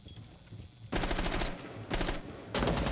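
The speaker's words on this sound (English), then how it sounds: "as shots did sort of rain down" Rapid automatic gunfire bursts from a competitive esports tactical shooter match, several loud volleys of firing separated by short gaps, with no voices during the shooting.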